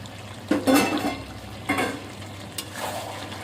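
Fried potatoes tipped into a chicken curry cooked down with yogurt, stirred in a pot with a few distinct scraping bursts and a soft sizzle between them, close by.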